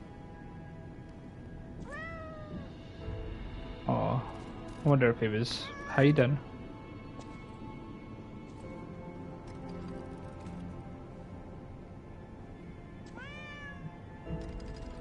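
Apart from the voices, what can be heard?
cat meowing in video game Lies of P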